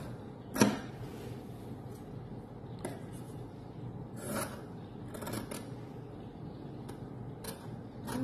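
Scissors cut through kurti fabric for the back panel, giving soft scraping snips at a few irregular moments over a steady quiet background.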